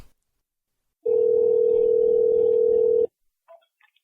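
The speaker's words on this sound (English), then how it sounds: "get George R. R. Martin on the phone" A telephone dial tone on a call sounds as one steady, unbroken electronic hum lasting about two seconds between silences, followed by faint brief clicks.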